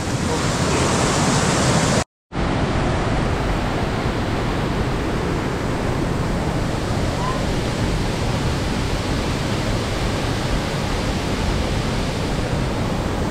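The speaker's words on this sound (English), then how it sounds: "Okay, so I made it to the waterfall." Ben's Bluff waterfall in Cockscomb Basin Wildlife Sanctuary, swollen by heavy rain, roars as a loud, steady, close wash of water, broken only by a brief dropout near the start.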